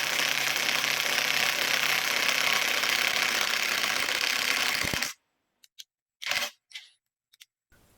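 A TEH LID230 cordless impact driver drives a large hex-head screw with loud, steady mechanical whirring and hammering for about five seconds, then stops, followed by a few short clicks and handling noises.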